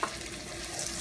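Garlic and onion sautéing in a pan for chicken sopas give a steady, quiet hiss of frying that holds evenly for the whole moment, with no voices.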